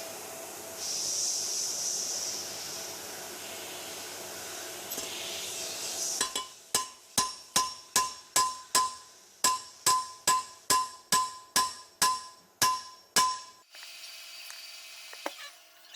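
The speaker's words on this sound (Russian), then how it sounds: "Смазываю седла маслом и забиваю по своим расточным местам." Valve seats are driven into a heated cylinder head from a 2.0 Kia Sportage engine, with about a dozen sharp, evenly spaced metallic hammer blows ringing out clearly after a quieter stretch.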